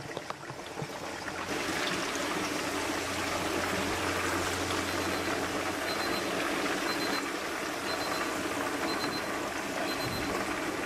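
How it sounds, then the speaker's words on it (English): Hot oil drains out of the cavity of a deep-fried turkey as a steady, dense trickling hiss that carries on almost unbroken, with no talking. "I'm angling it a little bit to let the oil drain out of the cavity"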